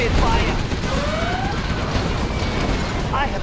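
Dense Gatling cannon fire in the game Command & Conquer Generals Zero Hour, a loud continuous rattle over a busy battlefield mix, with siren-like whines and voices layered through it.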